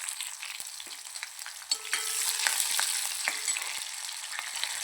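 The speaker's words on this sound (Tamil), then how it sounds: "ஒரு 10 சின்ன வெங்காயம் 2 பச்சை மிளகாய் சேர்த்து நல்லா வதக்கி விட்டுக்கலாங்க" Small shallots and green chilies sautéing in hot oil for a soy chunks gravy, a continuous crackling sizzle close up with scattered pops and light stirring clicks, no talking.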